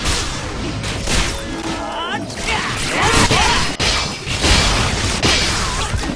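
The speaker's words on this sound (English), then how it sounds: "Be a rogue when you know you love cannons? When you love hearing that boom?" Cannon fire from the Tree of Savior video game, repeated loud booms and crashes in a busy battle with whooshing effects, while people chat over the gameplay.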